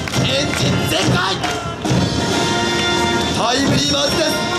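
An audience claps in rhythm at a Waseda University 2018 welcome live show. The claps come as steady, loud beats that run under an announcer's excited talking and crowd noise.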